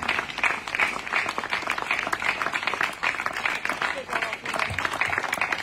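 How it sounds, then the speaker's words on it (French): An audience applauds steadily for several seconds, a dense patter of many hands clapping at moderate volume, with speech mixed in over it. "you can applaud everybody"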